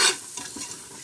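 Vangi bath rice being stirred together with vangi bath powder in a pan, a brief scraping burst up close followed by a soft, steady sizzle for about a second.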